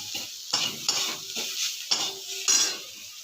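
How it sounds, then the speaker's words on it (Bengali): Chili powder and spices frying in a pan, with bursts of sizzle and a utensil scraping and stirring in uneven strokes, close and moderately loud, no talking. "এগুলোকে একটু ভেজে নিচ্ছি।"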